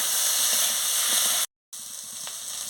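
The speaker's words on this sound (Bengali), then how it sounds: "সর্ষে বাটা দিয়ে ভালো করে নাড়িয়ে নিচ্ছি" Vegetables stirred with mustard paste in a frying pan give off a loud, steady hissing sizzle with faint scraping beneath. It breaks off briefly into silence, then resumes just as strongly.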